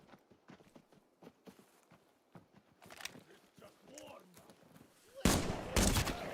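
Game gunfire from shooting scouts in Arena Breakout Infinite starts as scattered light shots and footstep-like taps, then grows into louder close bursts toward the end.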